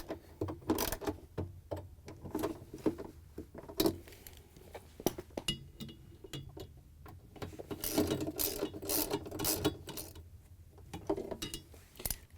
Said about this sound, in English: Once you have both bolts in and tightened down